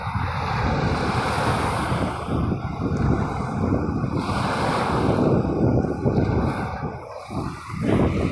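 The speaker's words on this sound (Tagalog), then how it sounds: "Ito ang malalakas na along guys." Strong sea waves break and wash continuously on a beach in Batangas, a loud rolling surf roar with gusty wind buffeting the microphone throughout.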